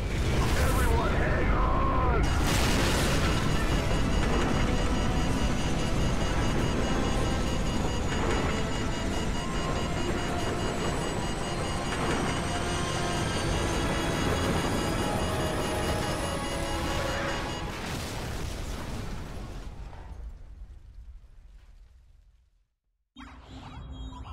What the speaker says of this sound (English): and then a nuclear warhead goes off